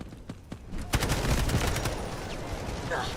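Rapid gunfire in a free-to-play first-person shooter video game, a loud dense burst of automatic shots with a few sharp single cracks at first, continuing as a busy barrage for several seconds.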